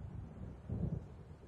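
Low, soft rumble of an approaching thunderstorm in Alan Wake Remastered, a distant roll that swells briefly midway over a constant windy background.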